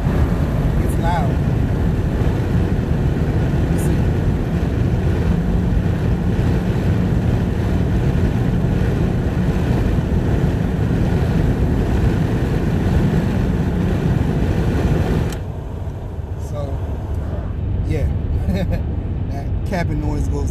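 Loud, constant wind roar inside a moving car with all windows open, fitted with a Jemini Y-pipe and Evil Energy aftermarket exhaust. A steady rushing buffet persists for about fifteen seconds, then drops to a quieter cabin hum.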